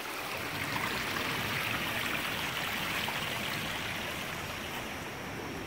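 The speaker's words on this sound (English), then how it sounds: "Very slow moving water." A slow-moving stream near Manoa Falls gives off a steady, soft rushing hiss, faint and unbroken throughout with no voices.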